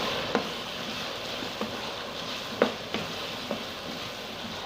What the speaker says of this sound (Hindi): तो इसको अच्छी तरह हम फ्राई करेंगे।